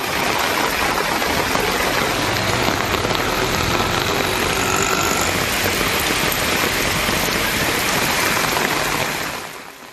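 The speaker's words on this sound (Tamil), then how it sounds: "தற்போது பகலிலும் பலத்த மழை பெய்தது" Heavy daytime summer rain pours down in Tamil Nadu, a dense, even roar of drops striking surfaces that holds steady for the whole stretch, then fades away in the final moment.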